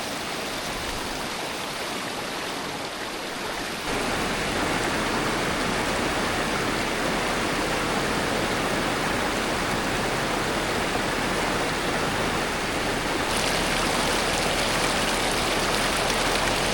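Bagsit River in Palauig, Zambales, its current rushing in a dense, steady roar, loud and close, growing fuller after a few seconds and holding constant.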